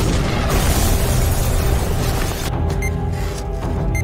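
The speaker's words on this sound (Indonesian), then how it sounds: "Setelah bom itu meledak" A loud, close bomb blast in a Korean thriller film booms and roars, then trails off into rumbling debris with faint clicks near the end.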